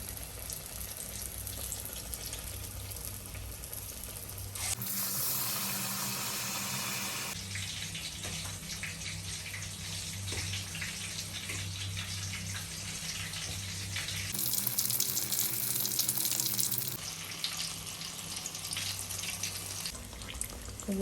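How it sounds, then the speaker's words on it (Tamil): Banana fritters (pazham pori) deep frying in oil give a steady bubbling hiss, which twice swells into louder, brighter bursts of crackling sizzle lasting a couple of seconds each. "மீடியம் ஃப்ளேமில் வச்சு ஒன்றா டிப் பண்ணி வறுத்து எடுத்துடலாம்"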